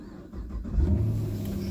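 A Chevy SS sedan engine fires up close by, a brief crank giving way to a deep, throaty growl that swells and settles into a loud, steady rumble.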